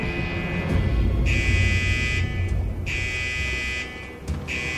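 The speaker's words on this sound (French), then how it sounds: "C'est l'alarme incendie du quartier psy." A fire alarm in a psychiatric ward sounds in loud, repeating electronic buzzer blasts, each lasting about a second and a half with short gaps between them, over a low background rumble.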